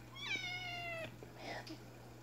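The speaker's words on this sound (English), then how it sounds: "he is a far more vocal kitten than Henry is, for sure" A kitten gives one clear rising-and-falling meow, close and fairly loud, and a second shorter, softer mewl follows over a steady low indoor hum.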